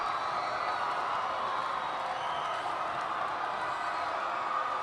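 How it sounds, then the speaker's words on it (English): A sustained, loud roar of cheering from the home crowd at a high school basketball championship, Friars versus Warriors, rising slightly toward the end with faint sounds of the game beneath it. "Listen to that crowd, Jason."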